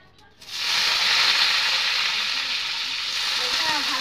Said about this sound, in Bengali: তো আমি এখন আলুকে আমি ছাড়িয়ে নেবো।